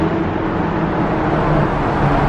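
A 2019 Lamborghini Urus driving fast, giving a steady, loud roar of engine and road noise that holds without a break the whole way through.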